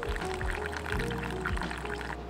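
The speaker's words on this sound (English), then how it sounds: "So we're gonna let the stream break before reaching the water." Hot water poured in a steady stream over ground Colombia Cerro Azul Geisha coffee in a pour-over brewer, giving a continuous close liquid-filling sound with a few soft low thumps and no talk.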